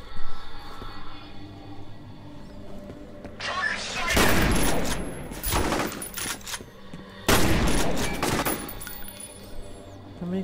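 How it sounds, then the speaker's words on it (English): Shotgun blasts in the shooter game F.E.A.R., two heavy booming shots several seconds apart, each followed by a long noisy decay, over background game ambience, with a voice talking. "How many shotgun shots are you gonna take?"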